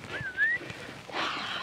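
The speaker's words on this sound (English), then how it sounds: "I'm just going to enter just like the call off whistle" A short rising whistle is blown as a call-off signal during dog training, clear and fairly close, followed by a faint rushing noise.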